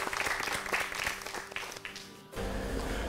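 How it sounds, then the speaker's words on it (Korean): Audience clapping on a Korean singing competition show after two contestants perform, a brisk patter of many hands with some tonal music underneath, cutting off abruptly near the end into a different louder bed of sound. "두 분의 아름다운 도전에 박수를 보냅니다."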